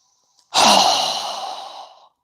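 A single strong exhale during a yoga breathing exercise, a loud, close, breathy rush of air lasting about a second and a half and fading out, with no talk over it.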